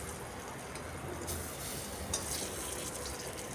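Green banana pieces shallow frying in a little oil for a raw banana and egg dish give a soft, steady sizzle that stays fairly quiet throughout, with a couple of slightly brighter crackles and no talking.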